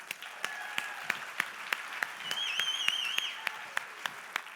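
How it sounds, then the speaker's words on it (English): Audience applause fills a conference hall at a marketing summit, a steady dense wash of clapping with sharp individual claps punctuating it, continuing evenly for several seconds. "Give him another round of applause."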